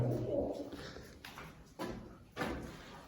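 Pigeons coo softly and low, a few murmuring calls mixed with nearby shuffling and light knocking sounds.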